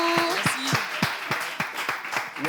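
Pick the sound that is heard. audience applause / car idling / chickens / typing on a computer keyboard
audience applause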